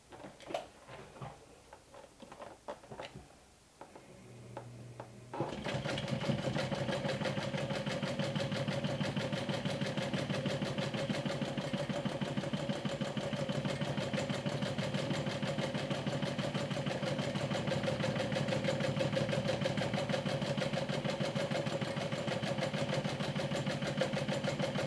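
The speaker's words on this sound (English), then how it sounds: "So now you want to stitch in the ditch on the top" A sewing machine stitches in the ditch along bias tape on a mini top hat, a steady close mechanical whir with a rapid ticking needle rhythm that starts after a few seconds of handling and runs unbroken to the end.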